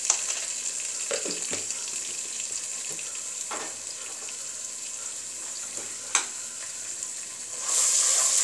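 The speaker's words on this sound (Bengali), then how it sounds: "এখন মশলাটা একটু ভুনে নিচ্ছি।" Ground spices, turmeric powder and salt fry in a pan for a hilsa fish curry with drumsticks, a steady close sizzle broken by a few short stirring scrapes and a louder burst of sizzling near the end.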